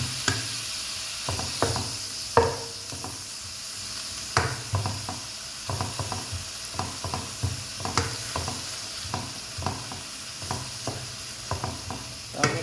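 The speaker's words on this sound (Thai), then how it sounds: "ลองดูนะเดี๋ยวแม่เติมน้ำนิดนึง เพื่อให้เขาหมูนุ่มนะคะ หมูนุ่มหมูสับจะได้นุ่ม" Minced pork stir-fries in a pan with a little added water, giving a steady sizzling hiss. A spatula scrapes and taps against the pan every second or so, close by, and no one speaks.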